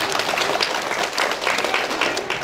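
An audience applauds at a village inauguration ceremony attended by the governor of West Java, a brief, close burst of steady clapping with no voices on top.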